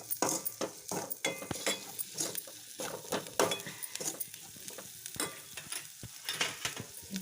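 Garam masala and coriander powder stirred into a sizzling pan mixture for paneer kulcha filling, with a steady run of close scraping spoon strokes over a soft frying hiss and no talking.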